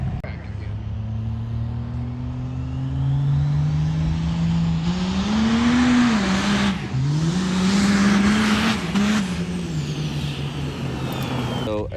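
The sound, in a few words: car engine revving during a chassis dyno run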